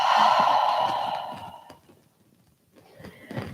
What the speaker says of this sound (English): one more deep breath in here. And exhale.